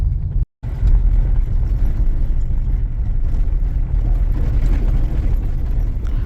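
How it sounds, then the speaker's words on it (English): A car rolls along rough, bumpy backcountry gravel roads in rural Maine, heard from inside as a loud steady rumble of tires and road noise with a brief dropout near the start and no talking. "Our backcountry gravel roads sure are rough and bumpy and a little noisy"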